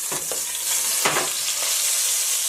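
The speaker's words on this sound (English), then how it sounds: "Now that that has seared, I'm going to turn it to the side and" Beef searing in a hot pan sizzles and crackles continuously, with a couple of sharp scraping stirs as the meat is turned onto its side; close and moderately loud, no talking.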